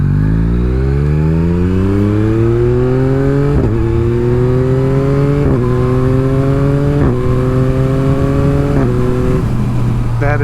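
Yamaha MT-09 motorcycle engine after a recall fix, revving up repeatedly in loud, smooth climbing sweeps with brief drops between gear changes, close and continuous with no stutter.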